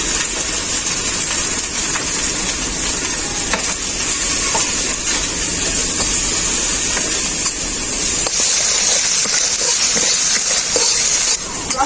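Spice paste of ground dried and green chilli, cumin, ginger and turmeric frying in a pan, a steady close hiss and sizzle with occasional stirring scrapes, no voices.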